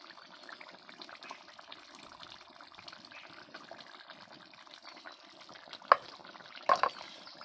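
Water poured into a pan of chicken curry: a faint, continuous trickling and splashing of liquid, with a couple of louder clatters near the end and no talking.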